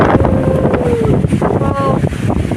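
Strong wind gusts roar across the microphone outdoors, loud and continuous, with a faint tone rising and falling through the noise and brief voice-like sounds mixed in.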